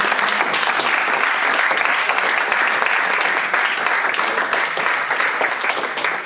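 A church congregation in Paris applauds steadily, a dense, even wash of many hands clapping at close range that holds at a constant level throughout.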